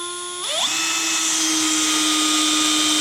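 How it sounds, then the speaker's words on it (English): A cordless hammer drill spins up sharply to a steady high whine while driving a screw, holding loud and close for about three seconds with no talk. "So I'll just drive another screw."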